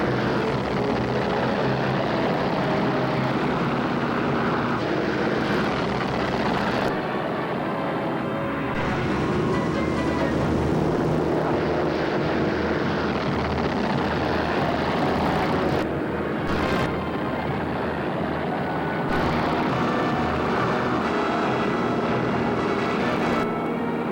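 Aircraft engines drone steadily and loudly as warplanes take off toward their target on a Sunday morning, 7 December. The roar holds across the whole stretch with no voices, like archival war footage.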